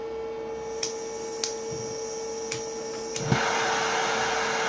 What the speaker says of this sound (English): So a torch is torching.